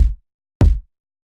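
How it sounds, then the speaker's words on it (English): Two deep, punchy kick drum hits, about half a second apart, each short with a heavy low thump, alone and close. "I just have this kind of like punchy kick."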